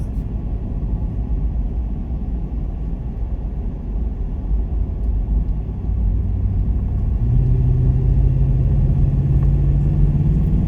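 A four-wheel-drive truck accelerating along a scenic lakeside highway in North Carolina: loud, steady engine and road rumble heard from inside the cab, growing heavier as a low engine tone rises in pitch.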